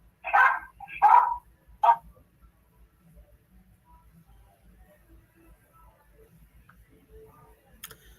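A dog barks indoors in three loud sharp barks close together, then the room falls nearly silent with faint ticking and a soft click at the end.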